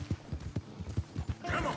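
Horse galloping in Red Dead Redemption 2, a steady run of heavy hoofbeats about every fifth of a second, close and fairly loud, ending in a brief burst of hissy noise.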